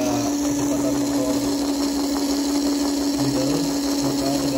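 A small electric motor on a speed-control test rig runs steadily at middle speed, giving a constant whirring hum with a strong tonal line, close and alone with no talk.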